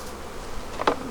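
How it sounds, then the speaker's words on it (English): A brief burst of dense buzzing from a honey bee swarm in a tree, with one bee passing close for a moment. "another swarm in the tree"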